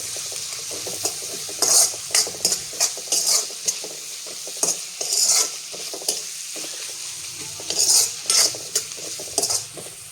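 Sprouted moth beans with salt and turmeric are stirred in a pan, giving repeated scraping spoon strokes in uneven bursts over a low, steady sizzle; no voices.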